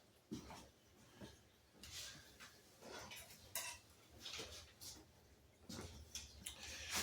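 Crisp snipping and crinkling of scissors cutting into a plastic package of push rods, repeated cuts close up with rustling between them.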